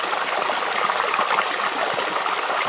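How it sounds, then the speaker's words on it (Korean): Trickling stream water in a forest campsite, a steady close babbling and splashing hiss with no talk. "이 물소리, 쫄쫄쫄 흐르는 물소리 들으면서 잘 잔 것 같아요"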